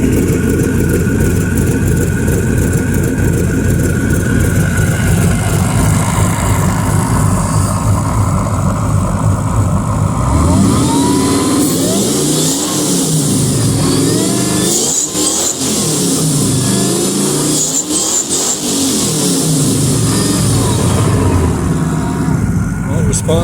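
A supercharged engine in a BMW-based T-bucket idles roughly, then is blipped and revved in loud, close bursts that rise and fall several times.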